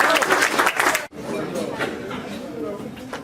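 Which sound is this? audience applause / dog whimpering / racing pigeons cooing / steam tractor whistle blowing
audience applause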